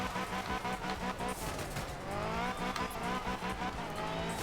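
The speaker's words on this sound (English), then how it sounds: "the Lancer is just like a really nice car to drive in this game" A 4-wheel-drive Mitsubishi Lancer rally car in the racing game Art of Rally, engine droning and revving continuously with shifting pitch, tires scrabbling over loose ground, loud and close throughout.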